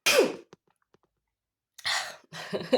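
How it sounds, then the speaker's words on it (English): A single abrupt sneeze up close, followed by a few faint breaths and clicks, then short bursts of breathy vocal noise. "I think I'm going to sneeze"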